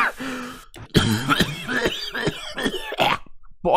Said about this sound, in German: Wie kann man so husten, dass er in den Eiern zieht?